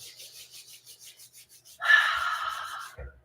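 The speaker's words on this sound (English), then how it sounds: "go ahead and start to rub your palms together" Palms rub together briskly, a soft rasping swish that begins after a stretch of quiet rhythmic sound and carries on steadily for about a second before stopping.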